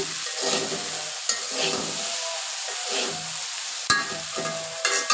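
Okra stir-fry is stirred in a pan with a spatula, loud sweeping scrapes in slow repeated strokes over a soft sizzle, with a couple of sharper knocks against the pan and no talking.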